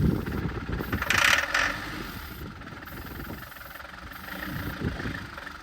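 A Renault 4x4 timber lorry's diesel engine idles steadily with a low, knocking rumble, close by, with a brief hissy swell near the start and no voices.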